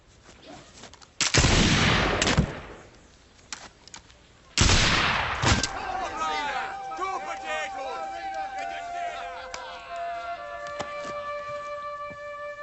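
Musket shots are fired outdoors at tossed potatoes: two loud, sharp blasts a few seconds apart, each followed by a rolling echo, with voices of onlookers afterward.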